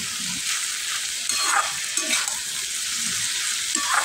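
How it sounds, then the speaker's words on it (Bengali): Mixed vegetables coated in masala fry in a pan, a loud continuous sizzle broken by repeated scraping strokes of a spoon stirring the spices through, with no voices. "মশলাটা খুব ভালোভাবে সবজির মধ্যে মিশিয়ে দিলাম।"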